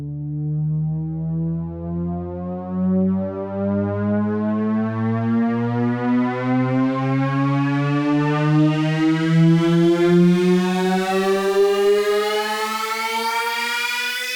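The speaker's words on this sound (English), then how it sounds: "riser sounds inside of Ableton Live." A synthesized riser built in Ableton Live, a rich harmonic buzzy tone sweeping steadily upward in pitch over about fourteen seconds, loud and alone with a gently pulsing texture.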